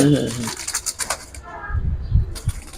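Military Lalpatti hemar pigeons coo in low, soft bursts close by, with someone talking over the start.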